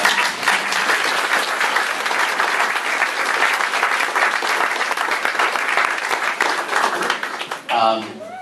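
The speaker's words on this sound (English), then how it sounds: "If you could give Dottie a round of applause" Sustained audience applause at a retirement party for a pastor, dense and loud, filling the room for several seconds before fading out as a single voice begins speaking.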